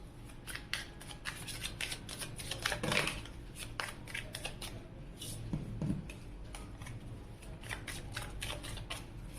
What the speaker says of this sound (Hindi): तो चलिए कार्ड शफल करते हैं और रीडिंग को करते हैं स्टार्ट।